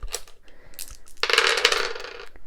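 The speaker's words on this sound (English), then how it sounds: "And then we roll our dice." Dice for a solo wallet board game rattle and clatter onto a hard tabletop in a short, close burst of small clicking impacts that settle quickly.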